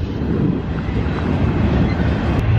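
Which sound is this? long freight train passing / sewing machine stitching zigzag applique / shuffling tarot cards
long freight train passing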